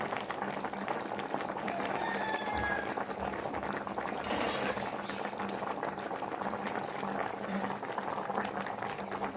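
A pot of boal fish curry with potato and eggplant boils steadily, a dense continuous bubbling and simmering hiss throughout.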